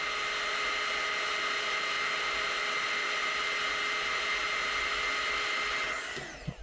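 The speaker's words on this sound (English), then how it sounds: "Just get a hot glue gun, give it a blast" A hot glue gun blasts heat onto the plastic of a Dyson V8–V15 direct drive connector joint: a steady, loud, close airy whoosh and hiss runs throughout and cuts off just before the end.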